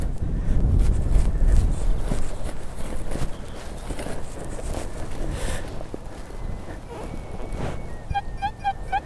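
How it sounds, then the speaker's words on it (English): Strong, gusty wind buffets an open field during a metal-detecting outing in the UK, a steady broadband roar that is heaviest early on and continues throughout, with faint scuffing and a soft electronic warble near the end. "it's so windy still"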